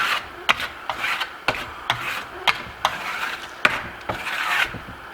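A steel trowel pulls thin coats of Venetian plaster across a wall with light pressure, giving a series of about ten close, rhythmic rasping strokes, each a short scraping swipe, with no voices.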